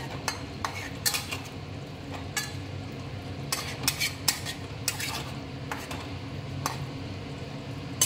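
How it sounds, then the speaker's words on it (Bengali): A spoon stirs Bengali aar fish curry in a pan after coriander leaves go in, giving scattered metallic clinks and scrapes over a low sizzling bed. "ধনেপাতা দিয়ে একটু নেড়ে দেবো"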